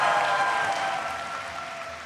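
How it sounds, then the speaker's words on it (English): A steady wash of applause from a crowd at an esports tournament finals, fairly loud and continuous, slowly easing off toward the end. "Let's give him one more round of applause"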